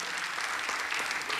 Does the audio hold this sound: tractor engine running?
no